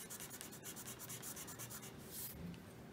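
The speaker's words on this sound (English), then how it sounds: "I think I'm going to try to draw a baseball hat." A pencil sketches a baseball hat on paper with soft, continuous scratching and rubbing strokes, close and quiet. A brighter scribble comes near the end.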